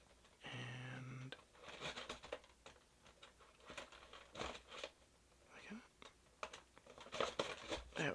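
A knife slicing and prying at plastic action figure packaging, quiet crinkling, scraping and tearing in short bursts, close up and soft, with a low voice speaking in between.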